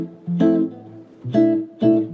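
Chords with altered tensions played on a keyboard-like instrument, three separate struck chords with rich ringing harmonics, each preceded by a low bass note, sounding close and clear with no talking.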